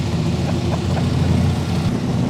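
An 800-horsepower NASCAR engine idles in a Cobra, a deep steady low rumble with faint rhythmic lope, close and loud with no talk.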